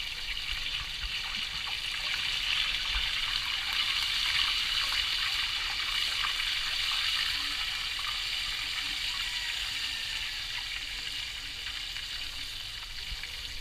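Whole fish lowered head first into hot oil in a pan while cooking Cuban style on a kayak trip in Key West, giving a steady, fairly loud hiss and crackle that runs continuously without letting up.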